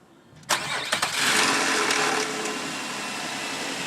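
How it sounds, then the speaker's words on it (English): A Nissan Quest minivan engine cranks and fires at about half a second, with a few sharp catches before settling into a loud, steady run close by. "We're going to go ahead and start it up for you."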